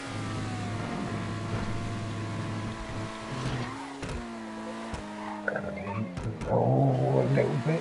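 Car tyres squeal briefly as they lose a little traction in GTA V stunt racing, a thin pitched whine over a steady engine drone, with scattered clicks and a louder rush near the end.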